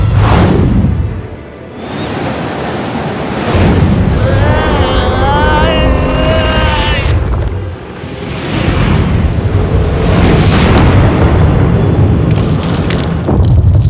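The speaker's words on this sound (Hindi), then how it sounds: "शायद एक एस्ट्रॉइड में विस्फोट हुआ" An asteroid explodes in an asteroid belt in space, a deep rumbling boom with whooshing sweeps under a steady dramatic score, loud throughout with a brief dip before swelling again.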